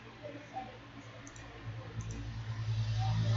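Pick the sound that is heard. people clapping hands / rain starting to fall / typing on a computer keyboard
typing on a computer keyboard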